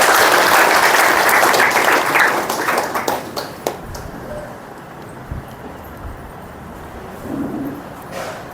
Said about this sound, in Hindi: एक बार माताएं खातर जोरदार ताली बजा दो